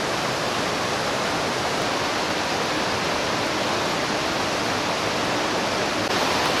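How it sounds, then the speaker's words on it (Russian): A small stream trickles over a dam spillway with the gates closed, on a Karelian river. It gives a steady, loud, unbroken rush of water with no voices. "Здесь нет водополноводной реки, тут теперь такой ручеечек."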